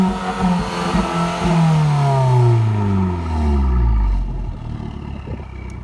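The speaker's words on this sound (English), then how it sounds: "an Akrapovic exhaust as well, which sounds absolutely amazing" An Abarth 695C Rivale engine with an Akrapovic exhaust revs hard several times, its pitch sweeping up and falling back, loud and close, with a throaty exhaust rasp.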